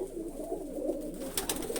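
Low, rolling coos from nearby pigeons continue without pause, joined near the end by a few brief sharper clicks or flutters.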